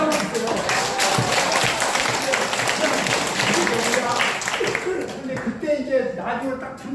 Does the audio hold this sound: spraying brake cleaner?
no